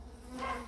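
Honey bees buzz at a hive opened for the first spring inspection after winter, a low, faint humming drone that swells slightly as bees pass close.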